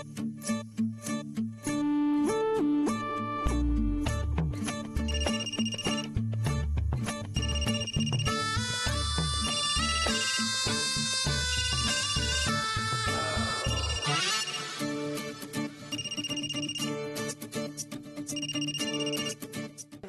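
A phone call's ringtone plays as a melodic electronic tune with a steady beat, moderately loud and continuous for about twenty seconds, shifting to a busier, brighter passage midway before settling back into the repeating pattern.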